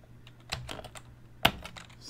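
Typing on a Color Computer keyboard, a handful of clacky, uneven keystrokes at close range, with one sharp louder key hit midway and quiet gaps between presses.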